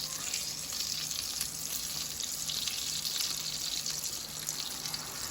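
Guyanese fish cakes fry in a pan of oil, a continuous soft bubbling sizzle at low level, steady and unbroken with no voices.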